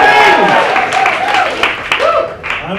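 Story slam audience cheering and applauding in celebration: loud, continuous crowd whoops and clapping throughout, with voices rising and falling over the noise.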